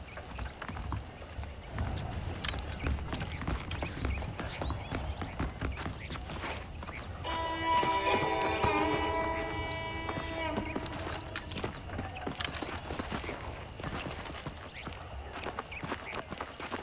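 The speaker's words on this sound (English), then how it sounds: "The horses are saddled up over here." Horse hooves clip-clop steadily at a walking pace in the western video game Red Dead Redemption, fairly quiet and continuous, with a brief tonal game sound midway through.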